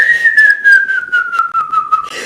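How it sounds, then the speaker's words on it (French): A single loud, clear whistle held as one long tone that slowly slides downward, with a few faint breathy accents along the way. "Les gens sifflent."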